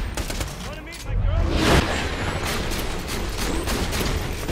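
Shotgun blasts aimed at a barrel in the Borderlands 2 video game, a loud burst of gunfire around the one-second mark followed by rattling in-game combat noise throughout.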